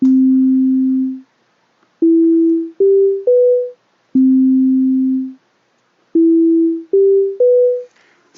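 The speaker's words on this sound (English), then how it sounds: "I'm going to change the wave here from a sine wave to what's called an ADSR" Synthesizer notes shaped by an ADSR envelope, clean pure tones with sharp attacks and smooth decays, played as a long low note followed by three rising shorter notes, the phrase repeated twice, loud and alone.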